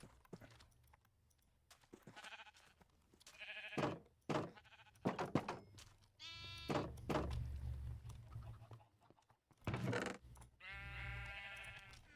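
Sheep in the Minecraft video game bleat repeatedly in wavering, nasal calls between soft thunks and game sounds, fairly clear and close.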